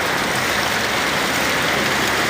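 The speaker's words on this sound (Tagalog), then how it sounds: "Lakas ng buhos ng ulan." Heavy rain pours down steadily in a broadband hiss, loud and continuous throughout with no talking.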